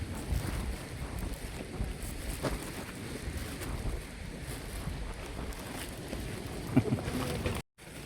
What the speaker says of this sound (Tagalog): Hangin lang yung malakas.